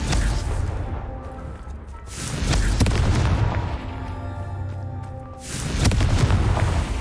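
Booming blasts from the Confringo fire spell in the video game Hogwarts Legacy, loud explosive bursts recurring with rumbling tails and a dip in between, no talking.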